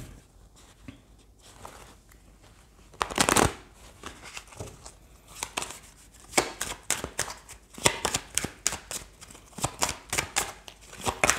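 Oracle cards being shuffled for a reading, with a burst of riffling around three seconds followed by repeated crisp, snappy card slaps and flicks, close and fairly quiet, with no voice.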